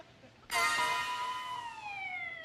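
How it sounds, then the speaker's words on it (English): An ambulance siren suddenly cuts in after near silence, a loud steady electronic tone whose pitch slowly glides downward as it continues. "Here comes Dr. Stockman with the ambulance"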